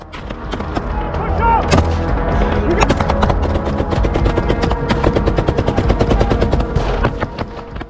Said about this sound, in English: The eerie pre-dawn silence was broken only by the distant rumble of heavy guns and the occasional muffled thud of mortar shells landing uncomfortably close.